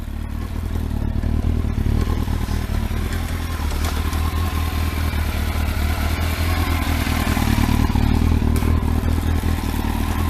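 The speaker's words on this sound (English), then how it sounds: "Chain's rattling a bit because obviously there's no weight on the rear" A Kawasaki ZX12R sits in first gear with no weight on the rear wheel, its engine thrumming in a loud, steady, close idle while the chain rattles and clatters continuously on top.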